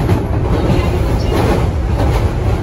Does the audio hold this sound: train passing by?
yes